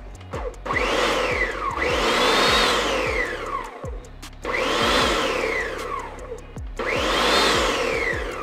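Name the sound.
Ninja blender pulsing tomatoes for pasta sauce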